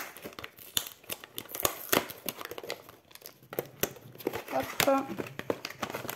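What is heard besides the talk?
opening plastic packaging of a craft kit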